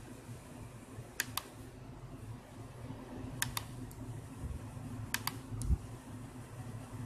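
A computer button or mouse is clicked in short sharp pairs spaced a couple of seconds apart, close and crisp over a low steady hum of room or fan noise.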